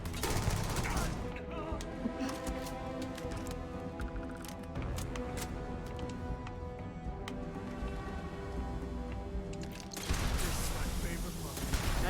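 Dense bursts of video-game gunfire rattle continuously for about twelve seconds, loud and close, with a brief lull near the middle and a sharper surge at the end, mixed with game sounds and some talk.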